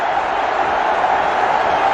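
A large crowd at a Twenty20 cricket match between Bangladesh and Sri Lanka keeps up a steady, dense roar of cheering after a boundary four brings up a batsman's fifty. The roar holds at even loudness throughout.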